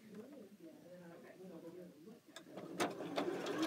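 A sewing machine stitches a quarter-inch seam on a quilt block, quiet and partly under a voice talking, then a few sharper mechanical clicks near the end.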